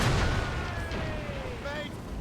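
Ship cannons boom in a naval battle in Assassin's Creed Rogue, with one heavy blast up front followed by rumbling decay and whistling projectiles. Shouted orders and battle chatter run underneath.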